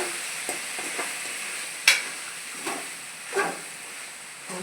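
Ridge gourd stir-fry being stirred in a pan after a short covered cook, a soft steady sizzle and hiss with a few scrapes and clinks of the spoon, close and fairly quiet, no voices.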